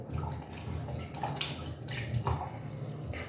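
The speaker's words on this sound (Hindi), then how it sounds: "तो अभी सबसे पहले हम थोड़ा सा लेकर पानी और कर लेते हैं स्पंज को डिप।" Water is poured or swished in a small basin to soak a cleansing sponge, a continuous soft splashing and trickling close by with faint drips.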